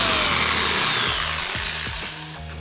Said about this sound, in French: mèche à bois, je pense que ça me paraît pas trop mal pour rentrer dans du plastique